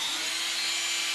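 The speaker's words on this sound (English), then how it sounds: "drilling these holes here for us" A steady, high-pitched whine of a power drill boring holes for a wire harness cover, running continuously, close and fairly loud, with no pauses or voices.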